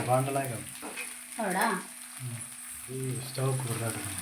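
Mackerel masala fry sizzles in a hot pan with a steady, close hiss, while a voice-like tonal sound runs over it almost the whole time.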